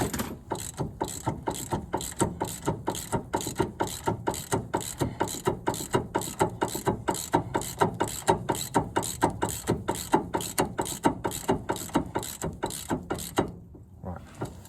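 A hand-wound ratchet tightens the hub nut during a Ford Focus C-Max wheel bearing replacement, giving rapid, steady, close clicking for about thirteen seconds before it stops.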